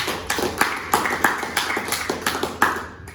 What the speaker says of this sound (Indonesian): Beri tepuk tangan untuk Andina.